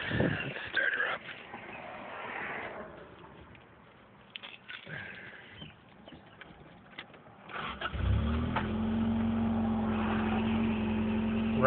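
A Toyota AE86 engine cranks and catches near the end, then settles into a steady, loud idle. It follows a stretch of quieter outdoor noise with a few scattered knocks.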